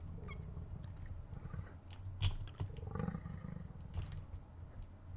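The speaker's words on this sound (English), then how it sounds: "Sounds like it's purring." A huge bison creature in modded Vintage Story gives off a loud, low, rumbling purr-like roar that stays steady throughout, with brief louder swells, sounding close despite the creature being far away.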